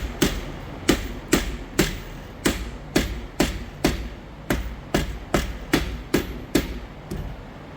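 Mallet hammering a grease cap onto a cargo trailer axle during an electric brake install: about fifteen sharp, close metallic knocks in a steady, even rhythm with a faint ring after each, no talk.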